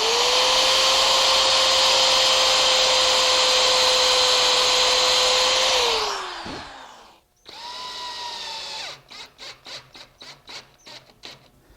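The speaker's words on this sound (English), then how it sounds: "But I do have to drill a pilot hole, especially with these maple shelves," A power drill whines loudly at a steady pitch while boring pilot holes in maple shelves, then winds down. After a brief pause it runs again, ending in a series of short rhythmic bursts.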